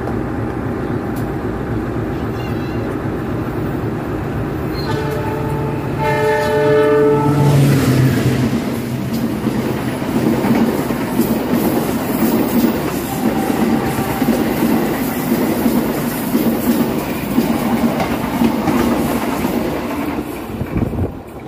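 A Penataran commuter train arriving at Bangil station sounds a long, loud horn blast, then a steady rumble and rhythmic wheel clatter on the rails carries on close by for many seconds.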